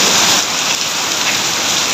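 Heavy downpour in a stormy evening, a dense, steady roar of rain pouring down close by, filling the whole two seconds without a break and with no voices.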